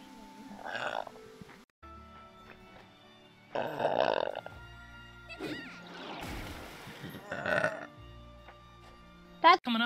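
A young woman lets out several burps, some short and some drawn-out and gurgling, spread across the stretch with quiet gaps between them, close and fairly loud, with bits of her voice mixed in.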